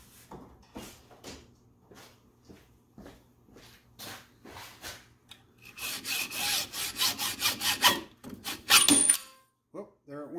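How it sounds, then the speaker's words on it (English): A hacksaw cuts through a titanium bolt with a rapid series of close rasping strokes. Scattered clicks and shuffles come first, and a few taps follow after the sawing stops. "We'll grab a hacksaw and we'll cut that right off."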